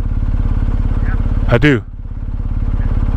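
A 2023 BMW R 1250 GS Adventure motorcycle rumbles steadily up close with an even pulsing engine beat while a person speaks briefly over it, then the engine note drops slightly and carries on.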